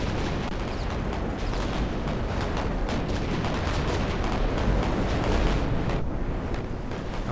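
Battleship gunfire rumbles in the naval game Victory At Sea Pacific, a dense continuous roar of heavy booming shots blended with wind and sea noise, loud and unbroken.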